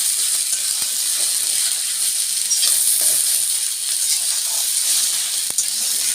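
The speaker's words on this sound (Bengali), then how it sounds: "আমার মূলোটা ভাজা হয়ে গেছে।" Grated radish fries in a pan with a continuous bright sizzle and hiss, punctuated by a few soft clicks of stirring, with no talking.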